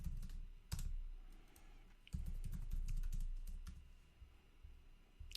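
Typing on a computer keyboard while writing code, a quiet, close run of irregular key clicks with a few sharper louder taps and short pauses between bursts.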